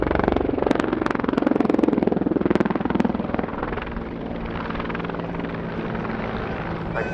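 A Mil Mi-24 Hind helicopter at an air show: the rotor thumps rhythmically and loudly at first, then settles into a steadier, heavy engine drone, all without voices.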